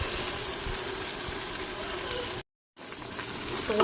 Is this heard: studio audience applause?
no